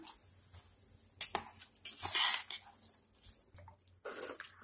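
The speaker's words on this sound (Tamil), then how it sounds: "தண்ணி நல்லா கொதிக்க ஆரம்பிச்சிருச்சு இப்ப நம்ம அரிசியை போட்டுடலாம்" Rice tipped into a pot of boiling water while making kuska, giving a few loud pouring and splashing bursts with quieter bubbling between them, close by.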